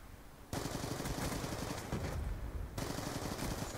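Rapid automatic gunfire from the video game Call of Duty Black Ops 2, loud dense bursts starting after a brief quiet moment, pausing near two seconds and near three, then resuming with sustained rattling fire.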